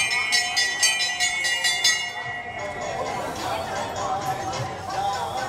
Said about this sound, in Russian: Вот висят колокольчики. И их трогают, и звучит постоянно такая мелодия.